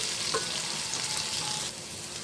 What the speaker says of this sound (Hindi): गोल्डन ब्राउन अच्छे से प्याज फ्राई हो गई डार्क